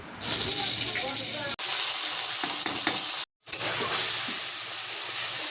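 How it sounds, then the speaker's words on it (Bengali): Fish seasoned with turmeric and salt frying in oil in a karahi, a steady close sizzle with scraping stirs, briefly cut by a short silent gap. "এই যে এবার কড়ার মধ্যে তেল দিয়ে হলুদ লবণ দিয়ে ভালো করে মাছগুলোকে"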